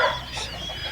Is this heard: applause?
no